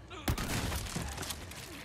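A sharp shot from a handgun in the Resident Evil 4 Remake video game, then a dense rumbling game soundscape and rattling clatter, with someone talking over the mix.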